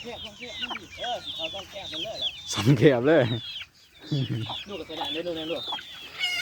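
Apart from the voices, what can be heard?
chickens clucking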